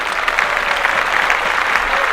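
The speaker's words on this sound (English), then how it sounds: "clap that up for Dr. J" Dense applause from a podcast studio audience celebrating Dr. J's birthday, a steady wash of many hands clapping close and loud for about two seconds with no talking over it.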